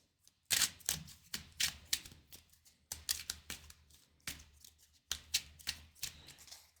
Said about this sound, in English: We'll go ahead and shuffle Track by Scent back into the deck.